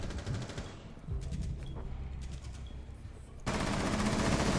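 Rapid automatic gunfire in the video game Rainbow Six Siege during a team deathmatch, bursts of shots at middle distance that swell into a louder sustained volley near the end.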